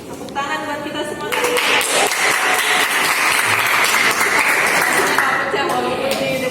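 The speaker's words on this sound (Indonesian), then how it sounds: "Tepuk tangan buat kita semua." A classroom group applauds together during a game lesson, with sustained clapping that swells and continues for several seconds, close and loud, mixed with voices and light chatter.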